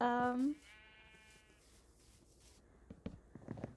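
A single loud sheep bleat from the Minecraft video game opens the clip, followed by quiet background and faint clicks and movement sounds.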